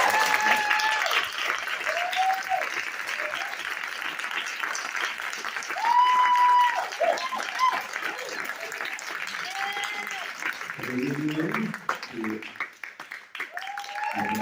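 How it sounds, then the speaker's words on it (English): Sustained audience applause fills a Q&A session's closing moments, steady dense clapping throughout with a few faint voice fragments and whistle-like tones rising above it, tapering slightly near the end. "So let's give one more round of applause."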